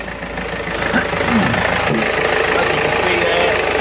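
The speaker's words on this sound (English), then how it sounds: "So now got the engine running." A Renault Master Mk2 van engine idles at close range after a lower timing gear oil seal replacement, giving a steady rough, knocking rumble with a voice talking over it.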